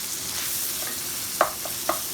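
Tennessee Pride pork sausage sizzling in a pan while being chopped up, a steady frying hiss with a few sharp scraping clicks of the utensil, close, no talking.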